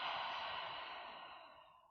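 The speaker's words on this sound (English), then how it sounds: "and take an exhale." Single slow exhale during a gentle yoga flow, a soft breathy rush close to the ear that gently fades over a couple of seconds, quiet and alone.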